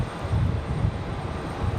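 A United airliner rolls at Raleigh-Durham airport, a loud, steady low jet rumble with broadband roar that holds evenly and stays fairly close, with no talking.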